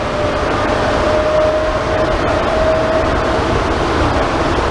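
Steady rumbling hum of an airport terminal train carrying passengers between concourses, continuous and fairly loud throughout with a faint tonal whine, no talking.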